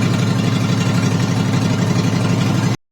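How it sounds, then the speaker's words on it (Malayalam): A police boat engine runs steadily at close range, a loud, even low throbbing drone with a slight pulsing rhythm that cuts off abruptly at the end. "പോലീസ് ബോട്ടാണെന്ന് പറഞ്ഞു, പോലീസ് ബോട്ട്."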